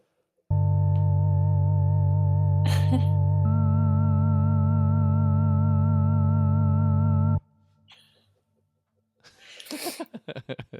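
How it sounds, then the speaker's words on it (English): During a live music stream, a sustained, rich harmonic chord with modulated reverb is held loudly for about seven seconds, then cuts off. Faint tails and scattered noisy bursts follow. "A little bit of a mod reverb."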